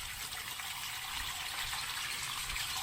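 Water rushes steadily out of a large tank through an open valve, a continuous loud gushing hiss with no pauses, close to the microphone and without voices.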